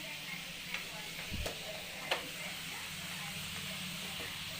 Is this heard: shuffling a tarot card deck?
no